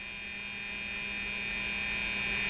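An optimized Pfaff 332 sewing machine motor running on its own, a steady electrical hum with a faint high whine, even and continuous throughout.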